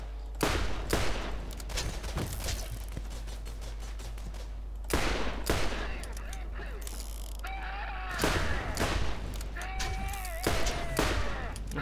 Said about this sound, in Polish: No po nogach ci strzelam.